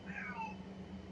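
A house cat gives a short, faint meow with a falling pitch, heard indoors over a steady low hum.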